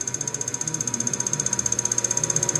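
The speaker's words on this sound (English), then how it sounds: "You want to start to increase the motor speed." A motor drives a Garrett T4 turbo assembly on a balancing rig, giving a steady fast whir with a rapid rhythmic ticking pulse that quickens slightly as the speed rises.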